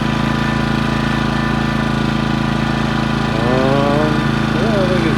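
A Craftsman 2200 watt portable generator runs steadily at close range, its engine drone constant and even, with a brief whistling tone rising partway through.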